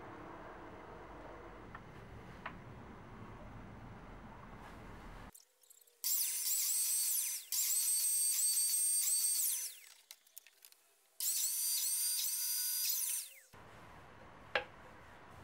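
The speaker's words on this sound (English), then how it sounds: "In the side parts, I also make the slots for the shelves, which I attach again with flat dowels." A power tool cutting slots for flat dowels into wooden side panels of a shelf unit runs in two loud, high-pitched whining bursts of a few seconds each, separated by quiet pauses.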